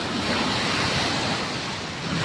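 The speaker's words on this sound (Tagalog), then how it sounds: "At tunay na napakalalaki ng alon" Large sea waves crash and surge continuously at Punta Harina Beach after rain and rough weather, a loud, dense roar of surf with wind noise over the microphone.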